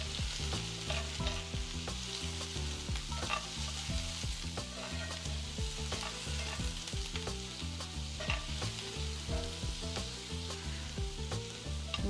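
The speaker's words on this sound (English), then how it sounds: "onions and peppers, saute a little." Onions and peppers sauté in a hot skillet for a vegan breakfast, a steady loud sizzle with frequent pops and crackles, joined by constant tonal background sound, likely music, running through the whole stretch.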